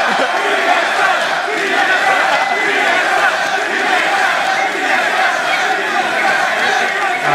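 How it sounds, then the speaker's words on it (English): Rowdy esports crowd at a 2014 North American League of Legends match chanting for team TSM, a loud sustained roar of rhythmic voices and chatter filling the arena. "let's hear those TSM chants"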